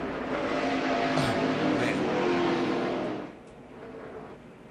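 A NASCAR race car at the 2004 MBNA America 400 roars loudly past at close range, then its engine note drops away sharply near the end as the car hits the wall after a right-front tire blowout.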